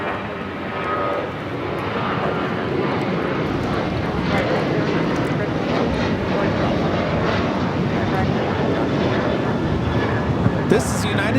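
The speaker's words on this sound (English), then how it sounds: "taking off to Denver on the 737-900ER" A United Airlines Boeing 737-900ER jet takes off at Los Angeles airport, heard as a steady, loud broadband engine roar that holds throughout with a faint voice underneath.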